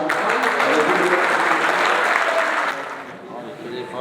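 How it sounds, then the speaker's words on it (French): Audience ovation for team captains at the Coupe de France des Clubs, dense loud applause filling the room for a few seconds before thinning and fading as a voice speaks over it. "j'aimerais bien que les capitaines ils aient une grosse ovation aussi de tout le monde"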